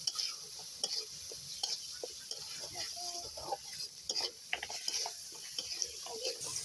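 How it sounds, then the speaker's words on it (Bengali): Spice paste with a little sugar, made for a village-style duck egg curry, fries in a pan under a steady sizzle, while a spatula stirs it with irregular scraping taps. "আমি নেড়ে চেড়ে আর একটু কষাই নেব।"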